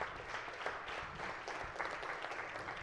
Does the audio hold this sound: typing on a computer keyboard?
no